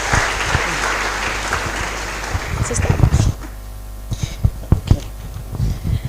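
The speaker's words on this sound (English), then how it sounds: "Please give her another round of applause." A crowd of students at a freshmen orientation for the College of Engineering at KNUST claps for the examinations officer. The applause is sustained and fairly loud, then dies down into a few scattered claps and thumps.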